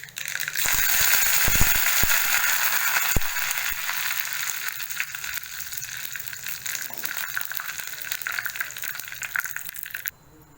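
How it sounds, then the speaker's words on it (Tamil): Mustard seeds and curry leaves sizzling in hot coconut oil while making a no-onion, no-garlic white kurma: a loud, bright hiss with crackles and a few pops early on, easing slightly before cutting off near the end. "கடுகு வெடிச்சதும் ஆஃப் பண்ணிவிட்டு கருவேப்பிலை சேர்க்கலாம்."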